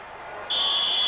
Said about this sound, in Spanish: Oímos en estos momentos el pitido del árbitro.